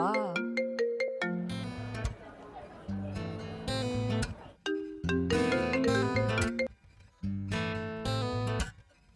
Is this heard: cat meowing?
no